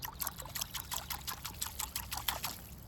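Water trickling and dribbling over the roots of a bigleaf maple seedling during repotting, a rapid irregular series of small splashes and drips, close and moderately loud.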